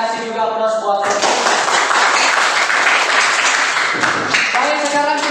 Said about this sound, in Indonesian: kita kasih juga aplaus buat kelompok